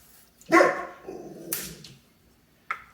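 A dog lets out a sharp bark followed by a couple of softer yips and a short final bark, fairly close, with quiet between.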